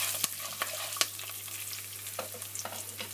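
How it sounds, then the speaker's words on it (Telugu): Tempering spices fry in hot oil for a vegetable sambar, crackling softly with scattered sharp pops and spits over a faint steady sizzle and a low hum. "ఈ పోపుకు కావాల్సిన సామాన్లన్నీ ఇలా వేసుకునేసి అవి జస్ట్ మీకు బాగా ఇది వేగాలి"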